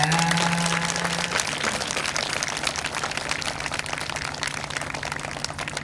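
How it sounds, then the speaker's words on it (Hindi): A crowd claps to welcome deities during a yajna fire ritual, making a dense, continuous patter of applause that holds steady throughout. A low hum is heard briefly at the start. "जोरदार तालियों से स्वागत।"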